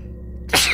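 A single sharp sneeze bursts out near the end, loud and close, following a stretch of low, quiet room hum.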